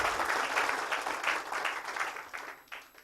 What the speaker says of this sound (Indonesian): Tepuk tangan untuk Keling dulu, ya.